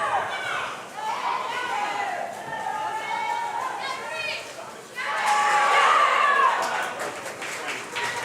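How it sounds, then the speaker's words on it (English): Fans and teammates at an indoor swim meet cheer and shout in a continuous, echoing crowd roar that swells louder toward the end. "Good support from the fans and teammates. You hear that cheering."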